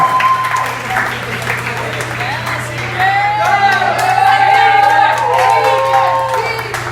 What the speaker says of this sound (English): give her a round of applause as she goes back to her seat